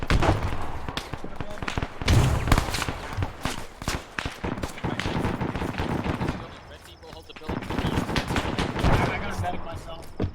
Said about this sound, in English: I just grenaded the top floor.